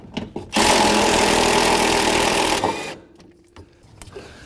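A power tool, likely an impact wrench, runs steadily for about two seconds while removing the upper control arm fasteners from the body of an Integra Type R under restoration, then cuts off, leaving faint workshop clatter.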